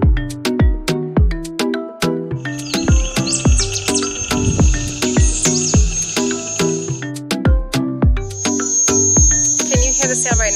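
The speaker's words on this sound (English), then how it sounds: "You can hear tons of birds out here." Dense morning chorus of many birds in coastal Mompiche, Esmeraldas, Ecuador: overlapping chirps, trills and repeated high calls from several directions, with insect-like buzzing running through the middle stretch, steady and fairly loud throughout.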